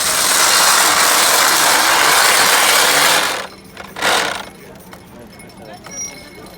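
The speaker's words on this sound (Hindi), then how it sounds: "ये रस्सी बुनी जा रही है यहाँ पे, ये पुराना ट्रेडिशन" An old rope-making machine twisting rope at a traditional festival in Italy gives a loud, dense mechanical rattle that stops after about three seconds, followed by a brief burst and quieter crowd sounds with people talking.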